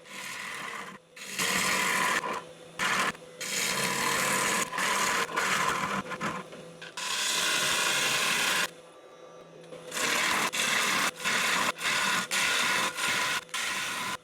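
A burr bowl filled with crushed mussel shells is hollowed on a lathe, a loud, close, hissing cutting roar in long sustained passes broken by brief pauses where the tool lifts off.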